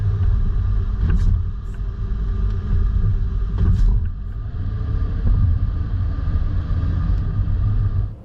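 A 2019 Winnebago motorhome rolls across the bumps of a test course, with a loud, continuous low engine and road rumble and a few brief rattling jolts as it goes over them, no talking.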